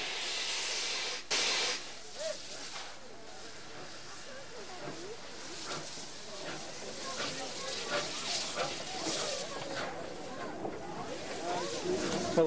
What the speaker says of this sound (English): Nothing nicer than a steam train.